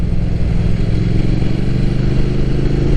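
A Triumph Thruxton Final Edition motorcycle under way, its engine giving a steady, loud, close rumble blended with wind and road roar, with no voices.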